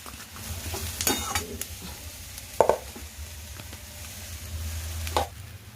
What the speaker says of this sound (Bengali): এবার পেঁয়াজ আর ক্যাপসিকামটা দিয়ে দেবে একটু নুন দিয়ে দিচ্ছি